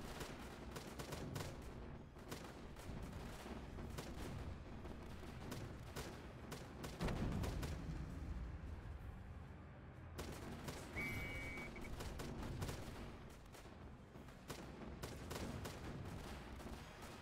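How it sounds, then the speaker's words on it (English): Rapid machine gun fire and explosions from the WW2 tower defense video game Northend Tower Defense, dense continuous bursts layered over a busy, quiet game soundtrack with a brief whistle partway through. "Let's put the machine gun out there."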